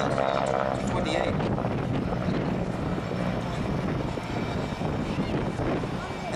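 A North American T-28C Trojan trainer aircraft flies past at an airshow, a continuous loud engine roar with heavy wind noise, while an announcer talks over it.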